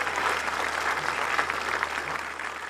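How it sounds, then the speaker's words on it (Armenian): A crowd at a public gathering breaks into applause, a continuous, fairly distant patter of many hands with a low hum beneath, steady throughout and nearly free of speech. "եկեք ծափ տանք Սամվել Վարդանյանին"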